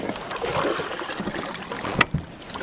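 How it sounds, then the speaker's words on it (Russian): Water trickles and laps steadily around a boat stuck in the shallows on the Volga as its outboard motor is raised, with one brief sharp knock near the end; close, with no speech. "давайте я мотор подыму"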